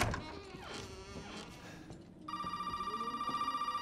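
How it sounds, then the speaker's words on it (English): A telephone rings in the horror game Resident Evil 7, a repeating electronic trill that cuts in sharply after some quieter in-game rumbling and footsteps, loud and close. "Oh, phone call."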